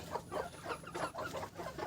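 A backyard flock of about thirty-five golden hens keeps up steady, rhythmic clucking, fairly soft and close, with no voices over it.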